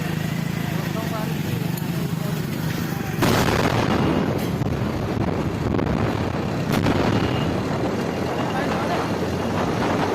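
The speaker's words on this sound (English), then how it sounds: "the chemical factory had a massive explosion" A massive explosion at a burning chemical factory sets off a loud, rumbling blast that breaks in suddenly after a few seconds of lower roar, then stays as a sustained heavy roar with sharp crackling pops.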